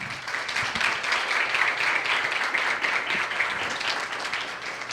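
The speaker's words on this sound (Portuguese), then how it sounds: "eu gostaria que vocês tivessem uma salva de palmas para a minha diretoria do CROMS." An audience at a dentistry lecture on facial harmonization gives a sustained round of applause, many hands clapping in a dense, even patter at moderate loudness throughout.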